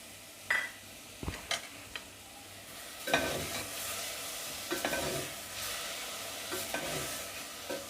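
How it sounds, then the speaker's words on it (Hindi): Ginger garlic paste fries with whole garam masala in a pan, a soft sizzle broken by several clinks and scrapes of a spoon stirring against the metal. "थोड़ा सा इसे फ्राई करेंगे।"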